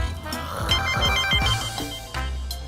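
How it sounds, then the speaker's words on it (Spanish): A mobile phone's ringtone sounds during an outdoor television program in Seville, a bright electronic melody with repeated tones playing steadily against background activity. "No me lo puedo creer que me está sonando el móvil"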